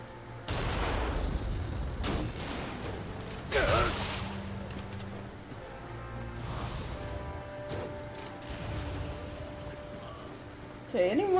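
Guns and hand cannons firing in the samurai action game Nioh 2, several sharp booming shots spread across the stretch, the loudest near the middle and end, with game music and effects underneath.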